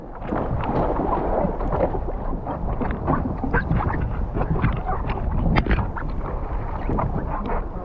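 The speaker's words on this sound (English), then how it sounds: "the wind really picked up" Strong wind roars across the microphone during a two-kilometre boat crossing to the Nova Scotia mainland, a loud continuous rumbling buffet with gusting surges and splashing throughout.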